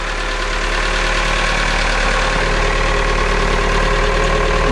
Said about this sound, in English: Engine's running good.